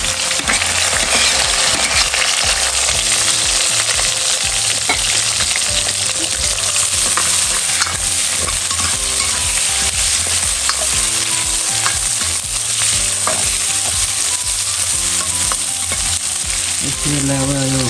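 Onions and green chillies frying in a pan for a Nepali village-style local chicken curry, a steady loud sizzle with occasional stirring scrapes and clinks, no talk over it.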